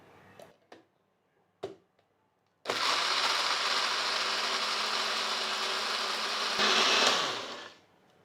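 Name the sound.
AGARO blender grinding chutney with grinding blade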